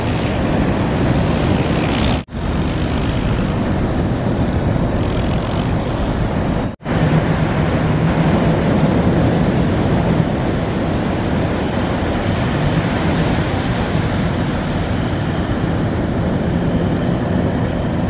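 Surf breaking on a sandbank, heard from a boat at sea: a loud, continuous roar of waves mixed with heavy wind buffeting the microphone, steady for the whole stretch with two brief dropouts.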